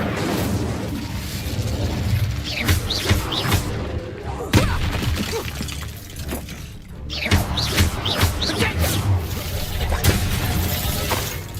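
A fire spell cast in Hogwarts Legacy lands among dense, busy game combat, with crackling bursts and thuds layered over a constant rumble of effects and a couple of brief lulls.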